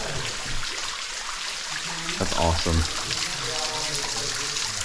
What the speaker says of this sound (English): the water is coming through this area